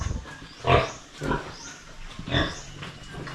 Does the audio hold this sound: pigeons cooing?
no